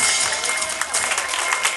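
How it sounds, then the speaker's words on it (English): Parents at a children's event in Dombivli clap for the kids, a brief, steady burst of dense applause with faint voices mixed in. "Parents, please clap for the kids."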